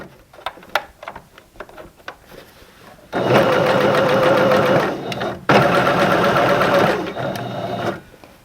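Home sewing machine stitching leotard fabric, a loud rapid mechanical whir in two long runs separated by a brief pause, preceded by scattered soft clicks and handling noises.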